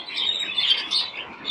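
A pet bird, a little over a year old and about 22 cm tall, chirps in a rapid run of bright, high tweets, loud and close and continuous with no talking.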